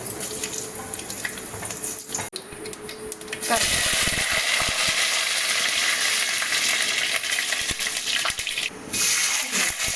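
Fenugreek, cumin and dried red chillies go into hot oil for tiffin sambar. A quieter hiss jumps abruptly to a loud, steady, broadband sizzle partway through and holds close and strong to the end.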